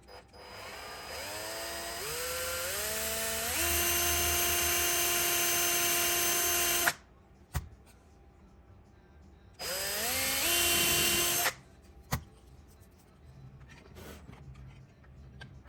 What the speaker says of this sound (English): So now I'm going to drill that hole out.